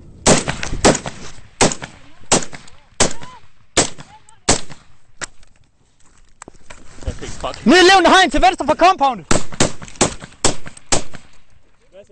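Rapid gunshots crack out in a firefight between Danish forces and the Taliban. Sharp reports come in irregular bursts, some close together, while soldiers shout urgently over and between them.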